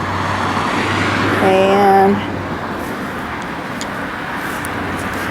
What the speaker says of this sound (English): Sorry about the noise. I'm right here beside the street.